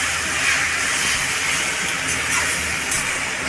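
Hakka noodles and vegetables sizzle and hiss steadily in a hot pan while being tossed, a constant bright frying sizzle with no talk.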